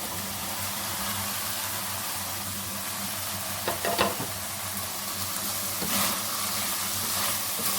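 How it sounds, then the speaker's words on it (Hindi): Carrots, capsicum and cabbage stir-fry with chicken over a high flame, a dense steady sizzle with a few scraping stirs and clatters partway through, close and fairly loud. "अब इसमें मैं वेजिटेबल डाल दूँगी, गाजर, शिमला मिर्च और बंद गोभी।"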